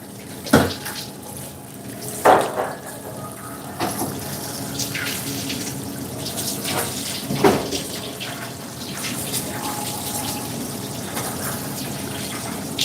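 Tap water runs steadily into a sink, rinsing canned chickpeas in a busy kitchen, with a constant moderate splash broken by a few louder knocks and clatters.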